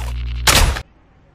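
A single harsh burst of gunfire, like a quick volley from a game, cuts in over a low electronic hum and stops abruptly into near silence.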